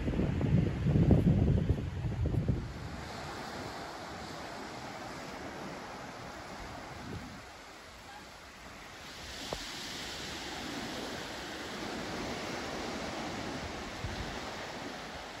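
Ocean surf on Diani Beach with the tide receding, a broad, continuous wash of waves. The sound is mixed with wind buffeting the microphone, heaviest in the first couple of seconds, then steady and moderately faint.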